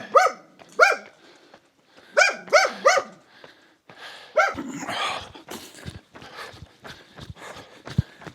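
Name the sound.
dogs barking at night in Gran Canaria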